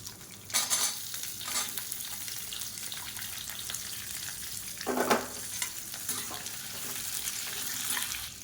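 Long-sliced onions frying in oil with chana dal and urad dal for onion chutney sizzle steadily and softly, with a couple of louder spatula scrapes and stirs breaking through.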